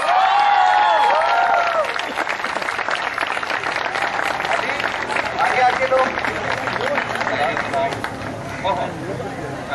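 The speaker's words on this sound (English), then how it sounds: "Come on, people, a big round of applause." Audience applause and cheering at an Iqra University event in Karachi, a dense, sustained wash of many hands clapping with crowd noise, steady and loud for the full stretch, with some voices mixed in.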